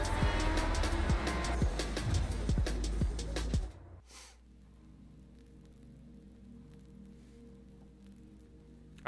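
Street racing car in the Night Runners video game, engine straining loudly with rapid gear-shift clicks for about four seconds, then cutting abruptly to a quiet menu hum.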